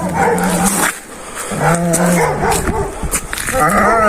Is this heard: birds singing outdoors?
no